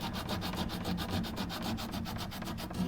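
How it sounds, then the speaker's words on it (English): A piece of gritty sandstone grinds and sands the edge of a handmade stone-age bow in steady, rhythmic back-and-forth strokes, close and fairly quiet, with no talking. "using a piece of sandstone and grinding the edge down"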